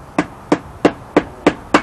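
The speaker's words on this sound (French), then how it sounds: "Alors je plante des clous." Nails are driven with a hammer, six sharp, evenly spaced strikes about a third of a second apart, close and loud with no talking.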